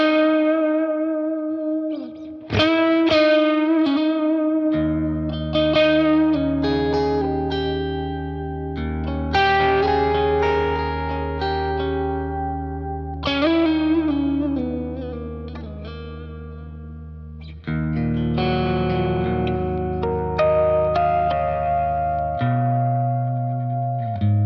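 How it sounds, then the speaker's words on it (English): A guitar played through a Keeley DDR pedal set to a plate reverb with a long decay, notes and chords ringing out with lush, lingering tails and no talking. "you can hear it's clearly a plate. It's got that long decay"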